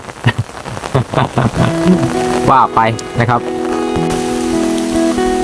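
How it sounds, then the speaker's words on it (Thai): Rain pours steadily outdoors during a stormy fishing outing to set nets, a constant hiss underneath someone speaking Thai in the first half, then continuing alone. "ก็ตากฝนแบบนี้แหละนะ"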